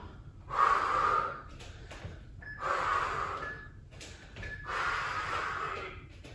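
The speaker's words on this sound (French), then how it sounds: "Je respire régulièrement." Heavy, rhythmic breathing during lunges, three long loud exhalations with sharp snorting gasps, spaced roughly two seconds apart, close and alone.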